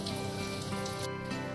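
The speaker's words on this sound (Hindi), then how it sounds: "पानी का आवाज़ आ रहा है, बारिश हो रहा है क्या? और हाँ सच में इट्स रेनिंग" Night rain falling steadily around a hotel in Gangtok, a dense continuous patter of drops on surfaces, even and fairly quiet, with no voices.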